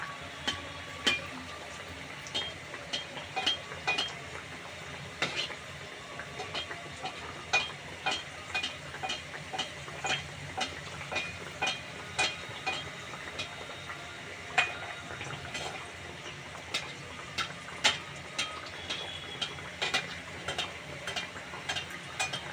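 Moghlai paratha fries in shallow oil in a pan, a faint bed of sizzle punctuated by frequent sharp crackles and pops over more than twenty seconds, with no talking.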